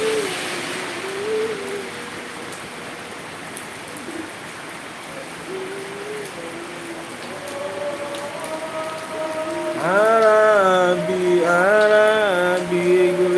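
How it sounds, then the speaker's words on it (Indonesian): Steady rain pours down with a dense hiss, while a bird or two coos and calls nearby, growing more prominent toward the end. "Hujan makin deras hujannya."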